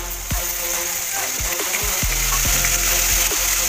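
Ginger garlic paste with ground pepper and cumin frying in hot oil in a pan: a steady loud sizzle with irregular clicks and scrapes from stirring throughout.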